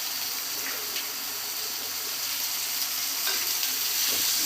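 Onion, tomato and snake gourd seeds sautéing in a pan for a chutney, a steady close sizzle with faint stirring scrapes throughout and no talk.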